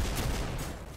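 Gunfire in a Roblox fighting video game, a brief dense burst of rapid shots under a noisy wash, loud and close.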